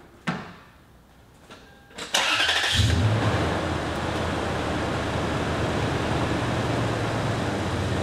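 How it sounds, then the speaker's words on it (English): A car engine cranks and catches after a jump from a Hulkman Alpha 85 portable jump starter, following a few faint clicks, then settles into a steady, loud idle that runs to the end. "Car started and ready to roll."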